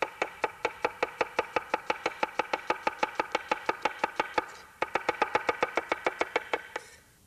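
A knife chopping an onion on a cutting board, crisp evenly spaced taps in a fast steady rhythm, close and clear with a brief pause midway before the chopping resumes.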